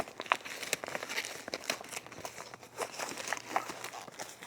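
A plastic Ziploc-style bag is handled close up, giving scattered crinkling and rustling bursts at an uneven pace, fairly quiet, with no talking.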